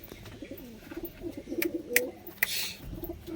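Chennai Madras breed high-flying pigeons coo softly at close range, low gentle murmuring calls with a few brief sharp chirps and clicks, no talking.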